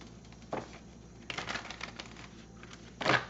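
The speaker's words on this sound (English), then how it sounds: "Cards don't want to go together for your shuffling." Tarot cards riffle and snap together in a few quick bursts, crisp papery flutters separated by short pauses.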